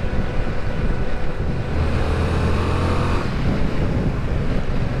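A 2021 Yamaha MT-07 two-cylinder crossplane motorcycle engine runs steadily while riding, a continuous low drone with wind rush that stays at an even, fairly loud level throughout.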